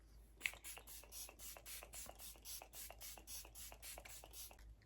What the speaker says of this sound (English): So now we're gonna go in with setting spray.